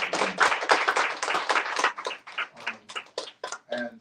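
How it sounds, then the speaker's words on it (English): An audience at a talk on Black Power in Britain claps, a brief scattered round of applause that thins into a few separate claps, with a voice speaking near the end. "So I wanted to give her a round of applause."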